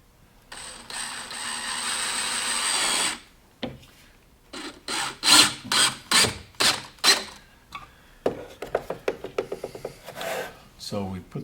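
A drill drives pocket screws into a wooden vanity skirt and post: a sustained whir, then a run of short bursts of rasping, ratcheting screw driving, close and distinct with pauses between.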